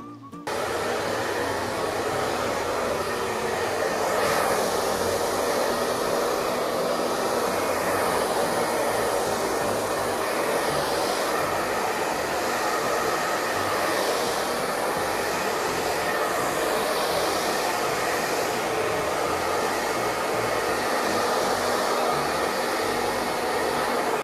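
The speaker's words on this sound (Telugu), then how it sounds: "ఇప్పుడు నేను దీంతో హెయిర్ డ్రై చేస్తున్నాను చూడండి" Handheld hair dryer fitted with a concentrating nozzle, drying wet hair: a steady, loud, unbroken blowing roar that holds level from start to finish with no talking.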